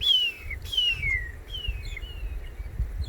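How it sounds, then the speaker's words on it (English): Magpie shrikes give clear whistled calls that slide downward in pitch, repeated several times fairly close, over a low rumbling background. "that you hear coming from in front of me is the magpie shrikes"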